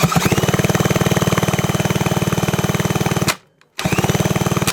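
A small engine is cranked over by a drill, a fast rhythmic chugging that runs steadily, stops briefly, then starts again.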